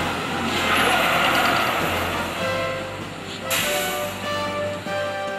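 A car brakes hard from 50 on dry asphalt without ABS. A loud, continuous rushing roar of tires and engine runs throughout, with a brief sharp burst near the middle and no speech.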